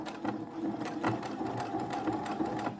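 A sewing machine stitches down a triple-layer washable fabric face mask, a quiet, rapid rhythmic needle chatter with regular mechanical thumps, steady and close throughout.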